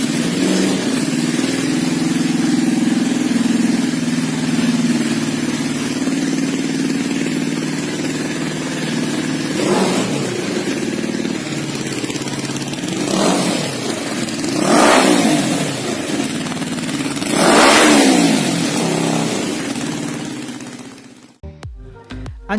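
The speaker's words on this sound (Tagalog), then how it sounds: "ito ang sound check ng dual exhaust system ng motor" Zongshen RZ3S 400cc motorcycle with a dual exhaust system, idling steadily and then blipped in four sharp revs that climb and fall back, loud and close, before cutting off abruptly at the end.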